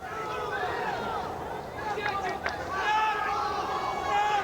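A big crowd of about 10,000 packs the Convention Center in Atlantic City for a high school wrestling final, a broad roar and babble that swells toward the end under a commentator's talk.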